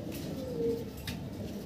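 Fancy pigeons give low, soft cooing close by, a faint and brief burble under a quiet background.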